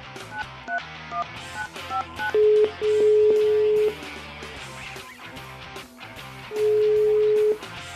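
Telephone keypad tones beep in a quick sequence as a call is placed, followed by longer steady ringing tones sounding loud and close.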